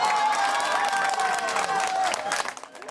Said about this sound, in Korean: 시민들도 가결 소식에 박수를 치며